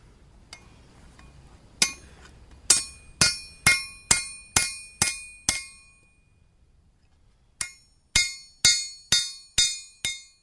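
A hammer rings on a railroad spike being forged into a knife blade, with two runs of sharp, evenly spaced metallic strikes separated by a brief gap, each blow leaving a bright ringing tail, close by and with no talk.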